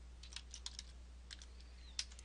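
Quiet typing on a computer keyboard while entering list items in Google Docs, a handful of soft, irregular key clicks spread across a low steady hum, one slightly sharper tap near the end.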